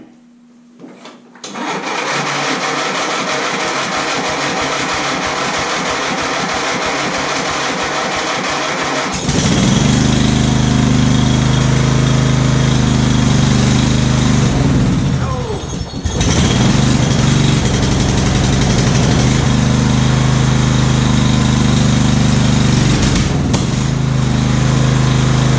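A small engine, its battery trickle charged at 2 amps, catches after a quiet stretch and settles into a loud, steady running drone with brief dips in speed, close to the microphone.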